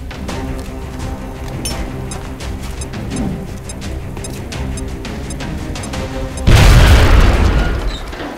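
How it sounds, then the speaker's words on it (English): A grenade detonates with a heavy, loud boom after a stretch of tense background music and ambience in XCOM: Enemy Unknown, the blast rumbling and fading over about two seconds. "Now toss your grenade at the enemy in front of you."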